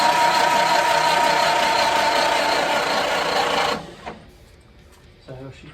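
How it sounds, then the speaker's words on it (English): Ford Model A engine cranking over on its starter, a loud, steady whirring grind for several seconds that cuts off abruptly, leaving a few faint knocks and clicks in a quiet room. "So she cranks over pretty good."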